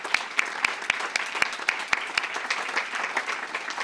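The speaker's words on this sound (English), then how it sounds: "let's give them a round of applause" Room audience giving a round of applause for community chamber representatives and officials, moderate crowded clapping with a few sharp individual claps standing out, steady for a few seconds.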